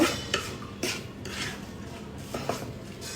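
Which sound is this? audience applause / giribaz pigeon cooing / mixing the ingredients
mixing the ingredients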